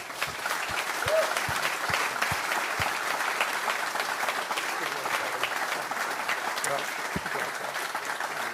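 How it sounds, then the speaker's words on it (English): A large audience applauds guests of the Champions Tour with steady, dense clapping throughout, a few sharp individual claps standing out near the start. "We give them a round of applause, please."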